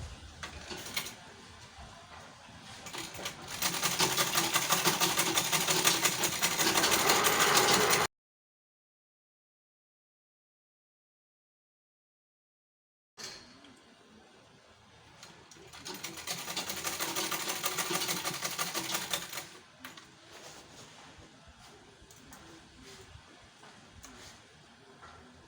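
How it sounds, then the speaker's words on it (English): Sewing machine stitching a fabric hobo shoulder bag at home, running in two steady bursts of several seconds each, separated by a stretch of silence, with a quieter mechanical hum between. "That's where I will stop my stitching."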